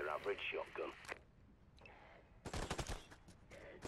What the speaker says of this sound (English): I love that pump action. Lighter, faster, another shotgun.